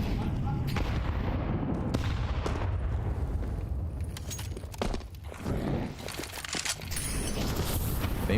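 Counter-Strike gunfire crackles through a dense, loud mix of shots and game noise, with several sharp bursts standing out over a constant roar.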